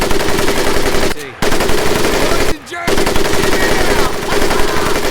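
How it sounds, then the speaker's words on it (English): An M1919A4 .30 caliber machine gun in a Pacific Assault war game fires in long, loud, continuous bursts, broken by two brief pauses, with a short voice over the racket. "M1919A4 30 caliber machine gun"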